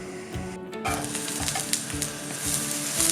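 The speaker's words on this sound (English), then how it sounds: "Then we're going to grill the aubergines on each side until we get a nice little bit of colour" Aubergine slices sizzle and fry in a pan, a bright continuous crackle with repeated soft scraping bursts as pieces are moved or turned, close and steady with no talking.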